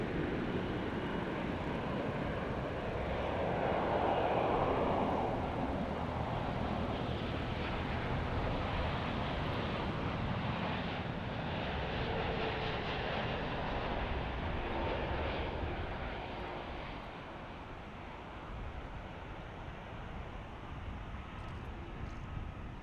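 Turkish Airlines aircraft passing at DFW International Airport, a distant broad engine roar that holds steady, then eases and fades toward the end.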